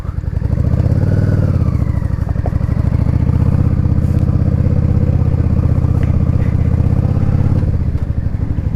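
A motorcycle engine with a K&N Chrome Top filter and Mikuni carburetor idles steadily up close, a deep rapid burbling thump that holds an even rhythm throughout.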